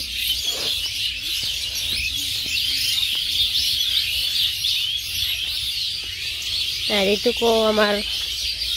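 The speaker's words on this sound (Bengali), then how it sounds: "দেখানোর কারণ হচ্ছে পাখির কিচিরমিচির শোনার জন্য" Birds chirp and call in a village setting, bright twittering high up through the whole stretch with a louder, close burst of calls near the end, while people talk over it.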